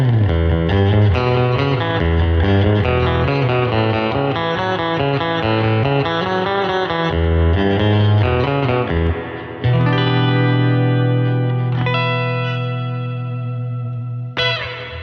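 A CTC Mirage reverb pedal set to spring sounds in stereo behind a loud, effected electric guitar, strummed chords washing into a long, splashy tail with a sharp twang near the end.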